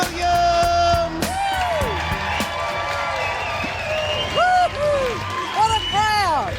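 A comedy club audience cheers, whoops and yells for a comedian at a stand-up special, with a loud crowd roar and several high, sliding whoops and whistles rising above the noise.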